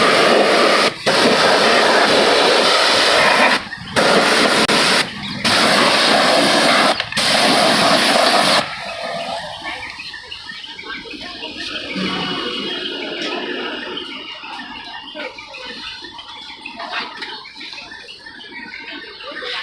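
A pressure water spray washes the self-starter motor shield of a TVS auto rickshaw with a loud hissing blast in several bursts, then gives way to quieter splashing and dripping.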